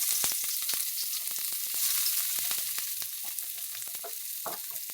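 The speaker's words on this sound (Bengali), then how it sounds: "তার জন্য আমরা এবার আমরা তেল গরম করে নিয়ে এর মধ্যে একে একে কেটে রাখা পেঁয়াজ" Chopped onions hit hot oil and crackle with a bright, busy sizzle, punctuated by sharp pops and a few utensil clicks, loud and close with no voices.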